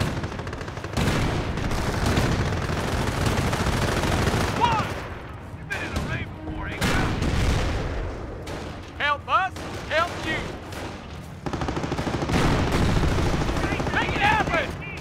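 Gunfire in the Company of Heroes video game, Normandy campaign: dense rattling bursts of machine-gun and rifle fire with booming impacts, nearly continuous and loud, with brief lulls where shouted in-game voices come through.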